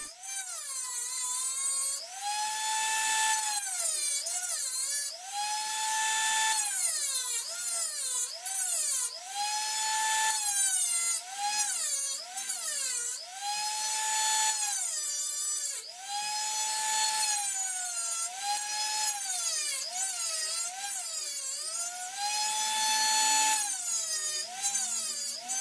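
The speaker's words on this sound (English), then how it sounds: "Then I do a rough cut of the miter with a cutoff wheel on a Dremel rotary tool." Dremel rotary tool with a cutoff wheel cutting a miter into a mountain bike frame tube: a loud, continuous high-pitched whine that dips and rises in pitch as the wheel bites and eases, running steadily without talk.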